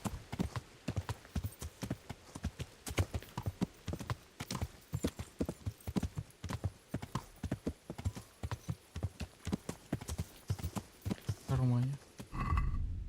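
A horse's hooves clip-clop in a steady trotting rhythm through the medieval game Kingdom Come: Deliverance, moderately close, with a horse's whinny near the end and a few voices over the hoofbeats.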